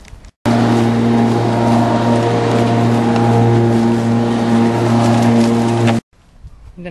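A Sun Joe MJ401E 14-inch 12-amp corded electric lawn mower switches on abruptly, runs with a loud steady motor whir and hum for about five seconds, then cuts off sharply, leaving quieter background noise.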